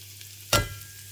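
Garlic cloves dropped into hot oil already holding curry leaves and onion for a brinjal kadayal give one short, loud burst of sizzling and clatter that quickly fades to a low background hiss.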